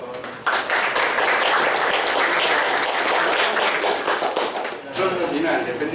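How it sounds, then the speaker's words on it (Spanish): Lecture-hall audience greeting a guest professor with loud, sustained applause that starts abruptly and rolls on for several seconds before tapering, dense many-handed clapping filling the room. "Un aplauso, por favor."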